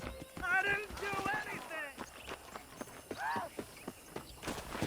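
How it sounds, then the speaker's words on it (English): Clopping horse hooves and a loud neighing whinny from a horse in the video game Red Dead Redemption, hoofbeats steady and close, with people talking over them. "let's see if you can still ride a horse"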